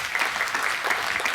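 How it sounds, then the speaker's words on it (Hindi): A crowd claps steadily throughout, a brief burst of audience applause at moderate distance. "तो तालियां बजाइए फिर आप।"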